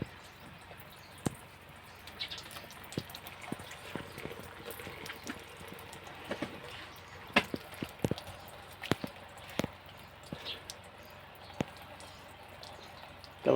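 Shower water runs in a faint, steady hiss, with scattered drips and small splashes landing at uneven moments throughout.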